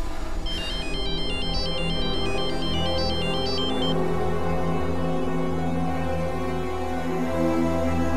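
A mobile phone ringtone plays a bright, repeating electronic melody for several seconds over a steady hum, then the tune stops while the droning background continues.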